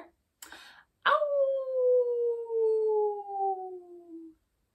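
A voice imitates a wolf howl for the character Wolf in a children's monster-hunt story: one long, loud, falling "ow-oo" held for about three seconds, preceded by brief short calls.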